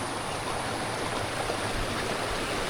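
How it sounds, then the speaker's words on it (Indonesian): A stream rushes over a rocky riverbed in a village setting, giving a dense, steady, close wash of flowing water with no voices. "Bawah turun ke sininya sungai bebatuan gitu ya."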